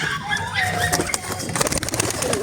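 Pigeons coo in soft, throaty bursts close by, with scattered clatter and rustling around them.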